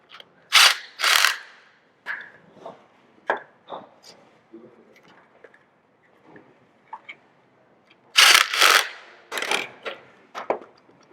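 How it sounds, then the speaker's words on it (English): Band clamps ratcheted tight around an inside-out woodturning blank, giving sharp bursts of ratcheting clicks in two main clusters with scattered lighter clicks and mechanical taps between them, close and alone. "I'll use band clamps, which are a lot faster than the tape."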